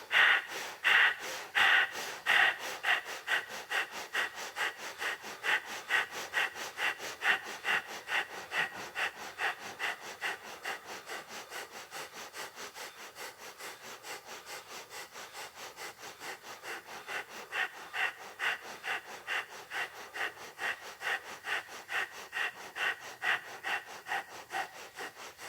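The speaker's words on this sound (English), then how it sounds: "Breathing through both nostrils." Quick rhythmic yoga breath of fire pumped through both nostrils, a long unbroken series of short, sniff-like nasal bursts at a fast even pace, close up, briefly easing in the middle before picking back up, with no voices.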